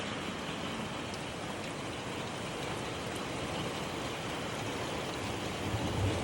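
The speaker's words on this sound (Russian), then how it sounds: "неожиданно пошел сильный дождь" Steady heavy rain pours down, a dense continuous hiss of drops hitting surfaces with no pauses and no voices.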